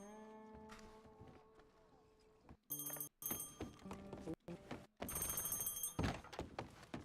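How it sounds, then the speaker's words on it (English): An old-style telephone bell rings in the western roleplay game RedM in several bright, clanging bursts broken by short gaps, with thumps mixed in and quieter sound before the ringing starts. "I can answer the phone for you. I hear it ringing."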